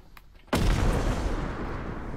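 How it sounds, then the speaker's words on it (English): A bomb blast in the video game Content Warning: a sudden, loud booming explosion that rumbles on and slowly decays, heard close and alone after a quiet moment. "You just threw a bomb."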